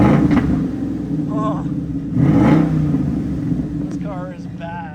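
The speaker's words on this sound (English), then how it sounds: "Bring it out again and let's give it a couple revs." A 2012 Ford Mustang Boss 302 with a 5.0L V8 and six-speed manual revs twice from idle, each throttle blip rising to a loud, throaty roar and falling back, while someone speaks briefly over the engine.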